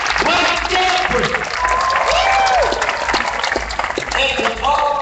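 Audience applause for city council members at a Los Angeles inauguration ceremony, continuous crowd clapping with scattered whoops and voices rising over it, a speaker talking through parts.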